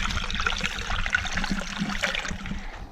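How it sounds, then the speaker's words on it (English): Creek water flowing steadily through the rocky Halls Creek narrows in Capitol Reef, a continuous close trickling and gurgling rush with no one speaking. "now we got a legit creek going on."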